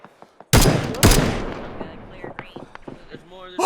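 Gunfire in the military game Arma 3: two loud, close shots with sharp reverberating tails, then faint scattered distant pops, with a voice talking in the background.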